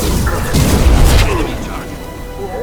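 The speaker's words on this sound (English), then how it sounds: "Deploying incineration tank." An incineration tank bursts in the Mass Effect 2 video game, a loud booming blast with crackling debris that peaks around the first second, then fades into lingering rumble and game effects.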